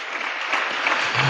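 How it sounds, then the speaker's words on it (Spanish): A church congregation applauds loudly and steadily in a short, dense burst of clapping from many hands in a large hall, with no speech. "dale un fuerte aplauso al Señor en esta hora"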